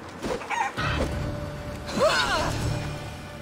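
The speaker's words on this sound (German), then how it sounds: "Na klar, ein Hahn." A rooster crows in the video game Assassin's Creed Odyssey, one clear crow rising and falling over steady ambient game background noise.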